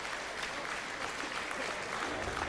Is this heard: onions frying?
no